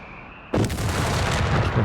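Indian artillery fire in Company of Heroes 3 strikes with a sudden heavy boom, then a rumbling, crackling blast wash that lingers, loud and close, with no talk over it.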